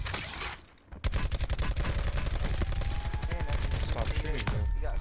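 Gunshots in Call of Duty Blackout: after a brief dip, a long rapid automatic burst of evenly spaced, loud shots runs for several seconds without pause, with faint voices in the background.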